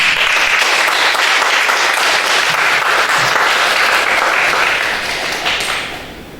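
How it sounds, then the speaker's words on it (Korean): A Korean church congregation applauds together at a Sunday service, with steady, dense clapping held loud for several seconds before thinning out and fading toward the end. "2배로 있어서 박수 한번 드립시다."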